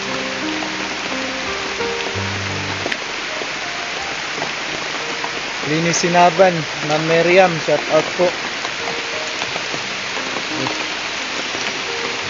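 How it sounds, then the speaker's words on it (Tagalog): Heavy rain pouring down outdoors as a steady, loud hiss of drops on surfaces, constant throughout, with someone talking over it in the middle and a tonal sound at the start. "Mag-isang oras na ako dito kahintay sa humina itong ulan na ito."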